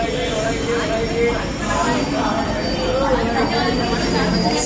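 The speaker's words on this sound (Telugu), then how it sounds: "ఇదిగో మా ట్రైన్ వచ్చేసింది" A passenger train rumbles steadily as it arrives at platform four of Kurnool station, with continuous wheel and engine noise and a faint high squeal, plus distant crowd chatter.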